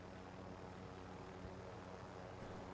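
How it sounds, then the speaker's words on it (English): Steady droning aircraft engine and rotor noise from a helicopter in a video game, constant and moderately loud throughout with no talking. "we're going on our trip in our favorite helicopter"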